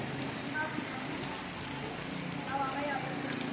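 Rain falls on a Christmas afternoon, a steady soft patter and hiss of drops on surfaces, quiet and even throughout, with a voice talking faintly beneath it.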